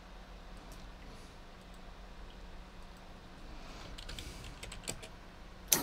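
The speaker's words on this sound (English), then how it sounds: "You can see your typing." Steady typing on a computer keyboard, quick irregular key clicks running throughout at moderate distance, with a few sharper taps near the end.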